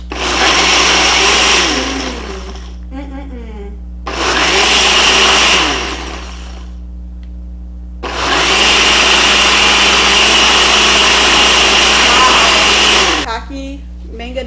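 A kitchen blender whirring loudly while blending a smoothie, in three bursts of roughly two, two and five seconds separated by quieter pauses.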